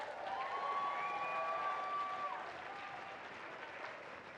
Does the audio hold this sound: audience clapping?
yes